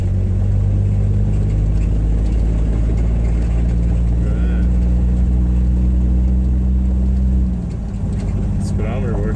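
A 1962 Rambler Classic drives with a loud, close engine drone and low rumble that holds steady and then drops off as it eases, while people talk inside the car.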